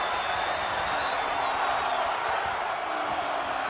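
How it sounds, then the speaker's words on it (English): Crowd noise from a WWE 2K24 wrestling match: a steady, dense roar of arena fans shouting and cheering, continuous and fairly loud throughout. "The crowd shouting for one more time."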